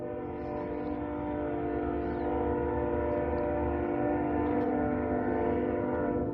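A train rumbles past at a distance, its low steady droning and horn-like tones carrying evenly under faint background hiss near a sawmill site.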